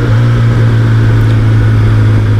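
A loud, steady Kawasaki ZX-10R motorcycle engine rumble held at a constant throttle, close up and droning without a break, with no voices.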